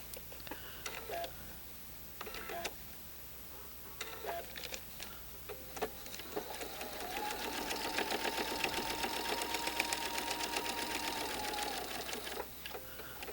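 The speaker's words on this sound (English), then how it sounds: "We're stitching on the blue lines right now." Sewing machine stitching along marked blue lines on fabric for a twisted quilt block, heard as a long steady whirring run after several short start-stop bursts with scattered clicks.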